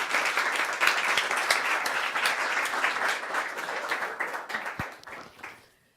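Audience applause at the close of a Pecha Kucha presentation event, a dense steady wash of many hands clapping that carries evenly for several seconds before fading out near the end.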